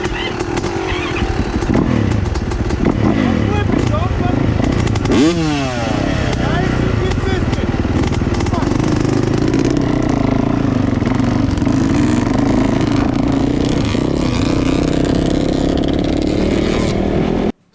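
A Yamaha YZ450F motocross bike roars loud and close while being ridden toward huge metal freestyle ramps, its engine rising and falling with a sharp rev burst midway, while people talk and shout over it.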